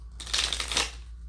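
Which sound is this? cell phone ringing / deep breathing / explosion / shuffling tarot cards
shuffling tarot cards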